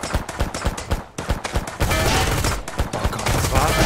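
Rapid gunfire bursts from the survival video game Mist Survival, loud and close, first as separate shots and then as a denser continuous volley.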